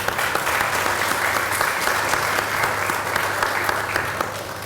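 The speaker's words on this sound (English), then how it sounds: "Please let's join them in applause." Audience applause at a rehabilitation services press conference: a sustained, even clapping from a seated crowd that holds steady and tapers slightly at the end.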